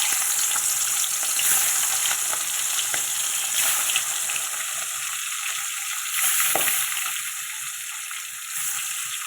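Pieces of shingi fish fry in hot oil with a loud, dense, continuous crackling sizzle close by. It swells slightly in a few spots, with faint stirring underneath and no voices.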